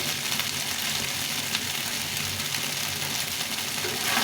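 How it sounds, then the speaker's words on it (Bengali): Chira (flattened rice) frying with onion as the pan is shaken, a dense, constant hissing sizzle that stays loud and even throughout with no talking. "একটু ভেজে দেবো করে ঝাঁকিয়ে ঝাঁকিয়ে ভেজে নিতে হবে"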